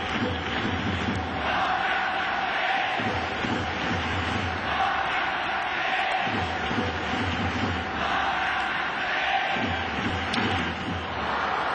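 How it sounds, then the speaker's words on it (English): Baseball fans packed into the right field bleachers at a Yomiuri Giants spring training game chant rhythmically for Hideki Matsui. The loud, continuous crowd noise pulses in steady repeated phrases. "The cheering in the right field bleachers right now."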